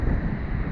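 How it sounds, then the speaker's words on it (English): Strong wind buffets the microphone at Watergate Bay, Cornwall, a steady roaring rumble with a faint surf-like hiss, continuous and close throughout. "It's really windy"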